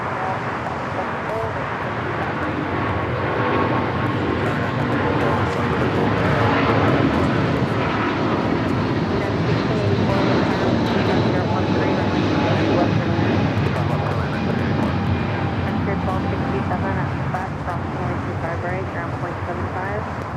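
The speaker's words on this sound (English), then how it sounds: "We do have a 777 taking off with United." United Boeing 777 taking off at LAX, a powerful jet roar that builds and holds loud for most of the stretch before easing, with a person talking over it.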